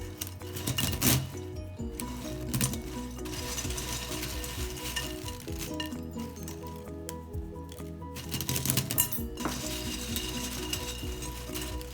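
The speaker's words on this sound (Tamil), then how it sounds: "நீள நீளமாக இருக்கிற அந்த சேவை கொஞ்சம் உடைச்சி விட்டுக்கோங்க" Crispy fried kara sev strands are snapped apart by hand, giving a steady, close run of brittle crackles and crunches that continues throughout with no talking.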